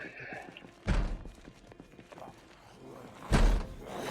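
Two heavy, booming thumps from Project Zomboid, like something pounding on a door, spaced a few seconds apart over a quieter background with faint game noise.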